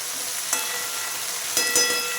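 Cluster beans sizzle steadily as they fry in a pan, a close, continuous bright hiss with a couple of short scraping bursts from stirring.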